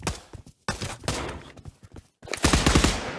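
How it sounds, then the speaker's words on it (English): Bursts of gunfire in a video game, with several short volleys of rapid shots separated by brief silences, ending in a louder, denser barrage. "Null is shooting at me."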